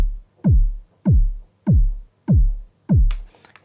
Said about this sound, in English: So this is a body kick because I wanted even more body from it.